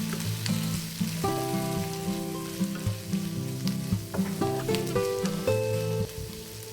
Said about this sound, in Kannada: ಇದನ್ನು ಇವಾಗ 1-2 ನಿಮಿಷ ಫ್ರೈ ಮಾಡ್ಕೋಬೇಕು.